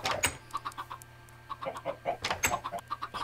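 Chickens in the Minecraft video game cluck in short scattered bursts, fairly faint, over a quiet low hum.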